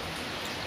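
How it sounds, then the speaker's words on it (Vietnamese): Light drizzling rain in a countryside village, a soft steady hiss of fine drops falling without pause, faint and uniform, with no voices over it. "Ông trời mưa"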